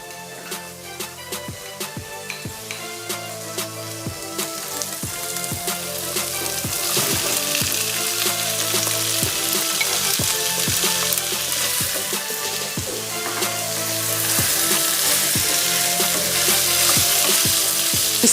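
Potatoes and carrots frying in a pan with seasoning, a steady close sizzle that grows louder partway through, punctuated by regular rhythmic scraping and knocking from stirring.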